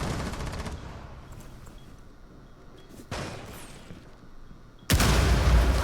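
Rifle fire from the operator Ash in Rainbow Six Siege, heard as a background crackle of rapid shots that fades, then a sharp burst near three seconds and a loud, close volley of gunfire near the end.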